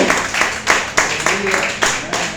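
Congregation at an evangelical church service clapping together, a loud, dense round of applause with rhythmic accents, mixed with voices.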